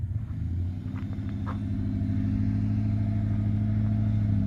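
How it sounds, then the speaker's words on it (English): Ford Bronco engine with a freed-up rusted motor running and driving, a steady loud low rumble that builds slightly, close by with no talk. "2 free Broncos running and driving"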